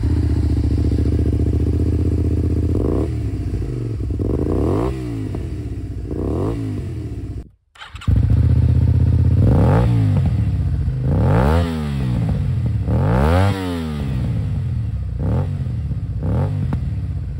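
Honda VTR250 motorcycle with an aftermarket Akrapovic exhaust, revving hard in repeated rising and falling bursts, loud and close, with a brief cut-out midway and no talking.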